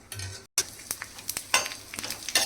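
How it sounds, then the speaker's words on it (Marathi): Dried onion frying in a little oil on a tawa, giving a close sizzle with scattered crackles and stirring scrapes after a brief cut at the start. "कांदा तव्यावर टाकल्यानंतर त्याच्यात टाका थोडंसं तेल आणि तेलामध्ये भाजून घ्या"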